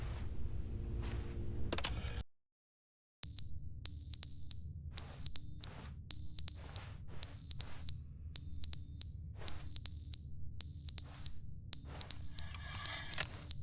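Repeated short high electronic chirps from a fire alarm's low-battery warning in the video game The Stanley Parable Ultra Deluxe, sounding at a steady, regular rhythm over a low background hum, loud and close, with a brief silent gap early on.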